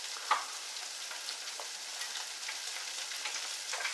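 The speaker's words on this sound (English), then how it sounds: "While we're waiting for our crab wontons to cook" Crab wontons frying in hot oil, giving a steady, even sizzle with faint crackles throughout, close and moderately quiet, with no talk.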